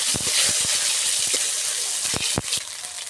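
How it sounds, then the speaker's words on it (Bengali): Garlic paste sizzling in hot oil, a broad steady hiss scattered with sharp pops and crackles, a few louder spits near the end. "তেল গরম হয়ে গেছে, দিয়ে দেব রসুন বাটা"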